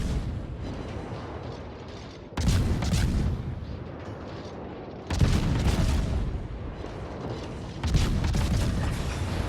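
The battleship Kremlin firing its guns in World of Warships, three heavy booming salvos a few seconds apart, each loud and rumbling before fading into a roaring backdrop.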